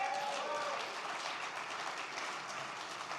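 An audience at a community award ceremony breaks into applause, a full spread of many hands clapping at moderate loudness that stays fairly steady and eases slightly toward the end.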